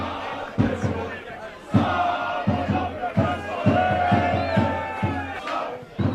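A football crowd of Preston Lions supporters chants and cheers in full voice after a goal, with rhythmic shouted bursts and claps rising from a broad, steady roar of voices.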